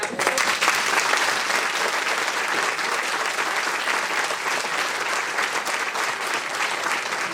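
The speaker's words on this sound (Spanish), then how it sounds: "vamos a darle un aplauso" An audience claps after a book reading at a town event in Marcilla. The applause is loud and sustained, holding evenly for the whole stretch.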